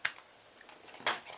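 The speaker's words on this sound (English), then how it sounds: "turn it over so I can cut it straight across" Scissors snip straight across paper card stock, two quick crisp cuts about a second apart, close and fairly quiet.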